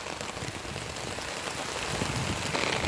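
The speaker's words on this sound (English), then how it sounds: "it is a rainy day in Georgia" Steady rain falling outdoors on a flooded Georgia yard, a dense continuous patter on surfaces that grows slightly louder toward the end, with no voices.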